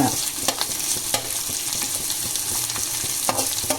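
Onions frying in a pan as ginger garlic paste is added, for a cauliflower fry, with a steady close sizzle broken by a few sharp stirring scrapes and clinks, no voices.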